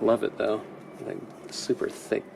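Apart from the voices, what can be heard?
No everyday noises stand out.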